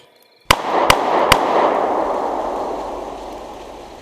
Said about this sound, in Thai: ได้ยินเสียงระเบิดของกระสุนปืนสองสามนัดติดกัน